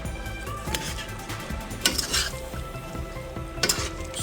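Jamaican oxtail cooking in a pot, with a steady low bubbling sizzle broken by a few louder scrapes of stirring and pot contact, close and clear with no talk.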